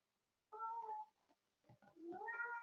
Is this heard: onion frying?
no